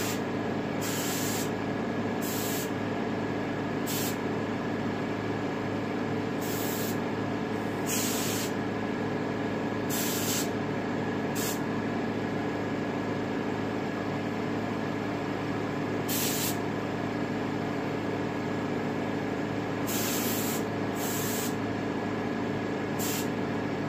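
Spray paint applied in repeated short bursts as a medium coat onto a taxidermy turkey head, each hiss starting and stopping cleanly over a steady low background hum.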